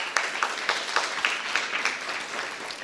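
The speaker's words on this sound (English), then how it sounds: "I would really appreciate it if we could still all clap for them." Audience at a community celebration evening for Palestine organizing clapping together, a steady moderate wash of handclaps with a few sharper accents, fairly close and without talk.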